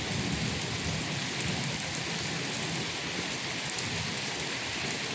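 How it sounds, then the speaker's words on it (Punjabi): Heavy monsoon rain in Punjab falls in a dense, steady roar of drops hitting surfaces, constant and unbroken throughout with no voices. "ਇਹ 27 ਜੁਲਾਈ ਦਾ ਮੀਂਹ ਹੈ ਜੀ"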